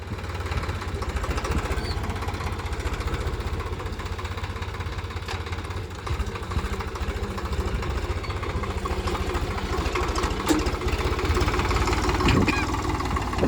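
A Swaraj 735 FE tractor's diesel engine idles with a steady, loud rumbling knock that holds evenly throughout, close by, with no talking.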